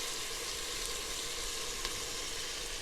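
Garlic sizzling in a hot pan with vegetables and spices for chili mac, a steady close, bright frying hiss throughout with no talking.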